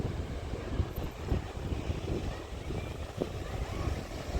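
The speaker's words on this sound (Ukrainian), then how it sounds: "На морі трошечки вітряно." Steady gusting wind buffets the microphone by the Irish Sea at Cahore Point, Ireland, with a low rumbling roar and faint surf underneath, no voices.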